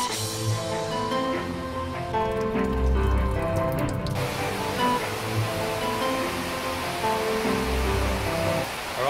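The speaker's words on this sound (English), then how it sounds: "It's super heavy rain and I can barely see anything." Heavy rain in Da Nang, Vietnam during a storm: a steady, dense hiss of downpour with pattering drops and low rumbling, continuous and loud without any voices.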